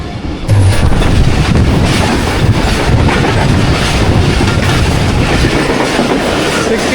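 The Down Karachi Express, running about five and a half hours late, roars past close by with loud, continuous rumbling, rattling wheels and clickety-clack over the rails, plus wind buffeting, and no voices.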